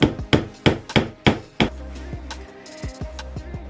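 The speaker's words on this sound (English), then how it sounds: "I remember every time when I use a hammer and nail" A hammer driving nails into reclaimed wood for a hand-built wooden box, five sharp evenly spaced strikes followed by quieter ringing taps and knocks.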